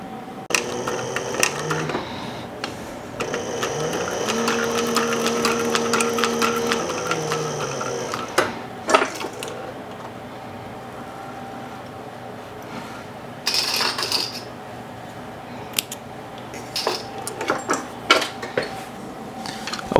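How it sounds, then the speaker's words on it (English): A Cobra Class 26 sewing machine sews up a stocking kit, whirring in a sustained close run for several seconds before dropping to scattered quieter clicks and short bursts. "I'm gonna hit it on the machine behind me, the Cobra Class 26"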